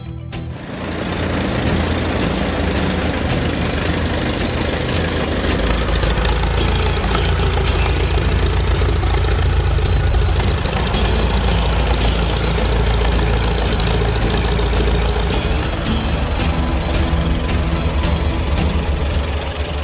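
Gasoline four-cylinder engine of a Caterpillar 2-ton crawler tractor of about 4.1 to 4.5 liters runs steadily and loudly for the whole stretch, with a dense rumble and clattering knock and no pause.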